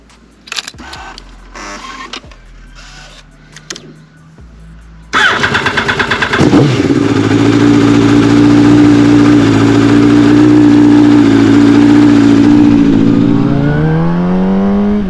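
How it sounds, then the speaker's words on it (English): A Yamaha R1 motorcycle is quiet apart from a few faint clicks and ticks, then the engine fires at about five seconds and settles into a loud, steady idle that holds and slowly shifts in pitch as it warms up. "I'm gonna get suited up, get the bike warmed up, and start this video"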